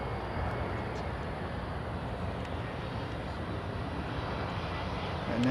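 A British Airways Boeing 767 gives a steady, dense jet engine roar, continuous and fairly distant, with no voices.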